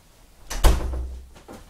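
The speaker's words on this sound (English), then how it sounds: "I gotta close my door." A single room door is pushed shut nearby with a solid thud and a low, brief rumble as it settles into the frame, followed by a faint click a moment later.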